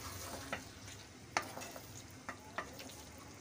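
Goat trotters (paya) being stirred and fried in a pot: a steady close sizzle with several sharp scraping clinks from the spoon at irregular intervals.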